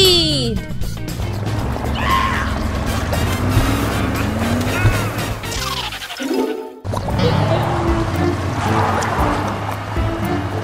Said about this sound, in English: Whoa, what a huge puddle! Haha, I'll go through it too!